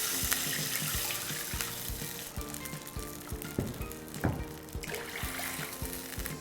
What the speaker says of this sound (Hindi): बिल्कुल नाप तोल कर पानी डाल रहा हूं